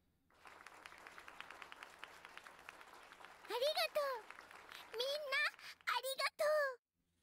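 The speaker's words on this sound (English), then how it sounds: "Keep clapping." Applause from a virtual audience in the horror video game Corpse Party: about three seconds of steady, dense clapping, then a high, childlike voice speaks and cries in bursts over the fading clapping.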